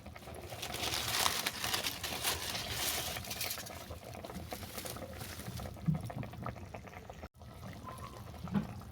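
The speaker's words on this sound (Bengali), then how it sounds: "সরষে বাটা দিয়ে টকটা আরও এক মিনিট ফোটানো হয়ে গেছে" Pankha fish sour curry with okra and mustard paste bubbles steadily in a pan, a continuous close, moderately loud boiling patter with a brief drop near the end.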